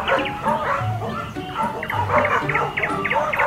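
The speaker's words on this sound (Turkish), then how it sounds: "Hasretle koklaşırlar." Dogs in a radio drama sound effect, heard through short yips, whimpers and soft barks in a lively, irregular exchange, with voices mixed in among them.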